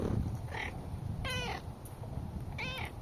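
A cat meows three times outdoors, close and clear, with drawn-out, rising calls spaced about a second apart over a steady background hum, no talking.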